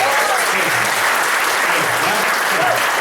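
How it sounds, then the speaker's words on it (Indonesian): A seminar audience gives loud, sustained applause, a dense continuous wash of clapping heard up close for the full stretch. "Kalau gitu tepuk tangan yang meriah Bapak Ibu."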